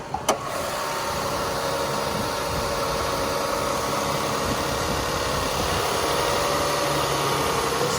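A 2004 Toyota Sienna LE minivan with the 3MZ V6 and about 233,000 miles idles steadily after a cold start, a smooth even hum with a brief click at the start and no talking.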